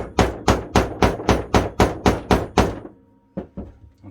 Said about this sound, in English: use a carpenter's hammer, like so, like a wooden hammer